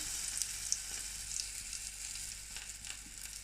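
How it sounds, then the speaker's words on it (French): Acacia flower fritters dipped in liquid batter frying in hot oil, a steady close sizzle and crackle with small pops throughout, no voices. "tu la trempes dans ta pâte à beignets, tu fais bien chauffer ton huile"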